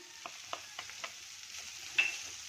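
Onion, cabbage and capsicum cook softly in a pan, with a faint sizzle and a few light scrapes of a spoon stirring, quiet and close.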